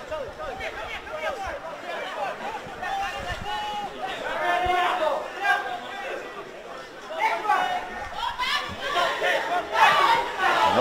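A crowd at a schoolboy rugby league match makes a lively roar and chatter that swells toward the end, with a commentator talking over it throughout.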